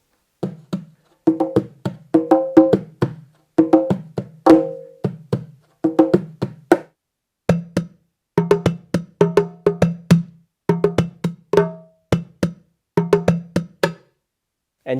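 Nyabinghi repeater drum plays freestyle top lines alone, a steady stream of close, sharp hand strikes in quick clustered phrases with short pauses between bursts, no voices.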